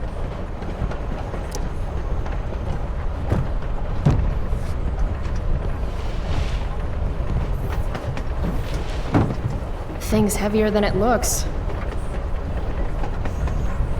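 A train in Life is Strange: Before the Storm rolls along the rails with a steady low rumble and occasional metallic clanks, continuous and close, while a person speaks briefly over it.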